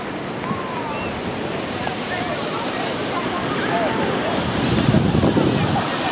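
Ocean waves breaking at Boucan Canot beach, heard from the roadside: a continuous, loud wash of surf that swells toward the end, mixed with wind rumble against the microphone.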